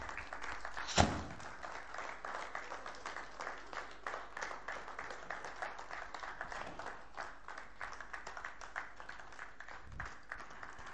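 Soft, sustained applause at a company stock listing ceremony, many hands clapping in a fairly distant, even patter, with a sharp thump near the start.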